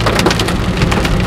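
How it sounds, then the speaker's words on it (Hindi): Large hailstones pelting a Hyundai i10 Grand during a storm, a dense continuous drumming and rattling on the car body with irregular louder hits throughout, loud and close. "बहुत ही बड़े बड़े ओले गिर रहे हैं"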